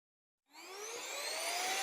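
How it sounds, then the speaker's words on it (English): Small electric pump switching on abruptly after silence and whirring steadily as it vacuum-seals an IKVAOL travel compression bag, a close, rising whine that holds on. "put the pump on, which kind of pops right on pretty easily. I'm going to double tap that switch"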